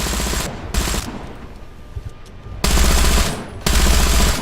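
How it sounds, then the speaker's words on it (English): A German machine gun in the video game War Thunder fires in loud bursts, with two short volleys early, a pause, then two longer sustained bursts of rapid gunfire. "They just sound like a German MG there."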